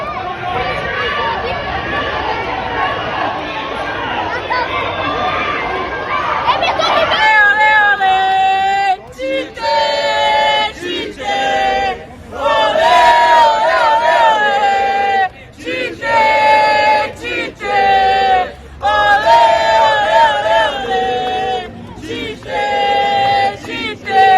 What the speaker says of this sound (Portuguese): Tite, acima da torcida, ovacionado pela torcida.